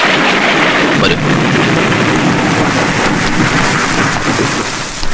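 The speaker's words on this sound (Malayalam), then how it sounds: "പുറത്ത് നല്ല മഴ, നമുക്ക് അകത്തിരുന്ന് സംസാരിക്കാം." Heavy rain pours steadily outside at night, a dense, loud wash of noise with a low thunder rumble beneath, continuous throughout.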